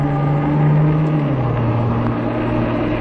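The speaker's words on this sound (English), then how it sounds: "Loud little cars." Small, loud cars passing at night on a road, heard from an electric fat-tire bike; a steady engine roar with a falling pitch as one vehicle goes by, close and continuous.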